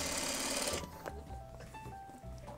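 A sewing machine runs a fast, steady stitching burst on a quilt patch seam for under a second, then stops, leaving quiet handling sounds.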